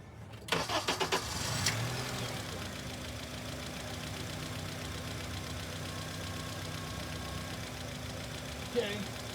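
A car engine cranks with a few quick knocking bursts, catches, then settles into a steady low idle hum that runs on evenly, with a faint bump near the end.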